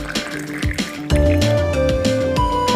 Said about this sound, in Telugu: అన్నిట్లో వాటర్ పోసుకుందాం